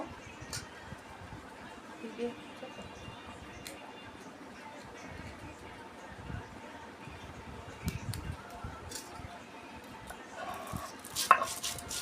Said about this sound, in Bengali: এই যে ধনেটা আমি বেটে নেব